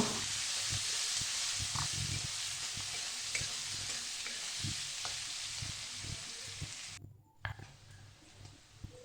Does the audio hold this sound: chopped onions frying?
yes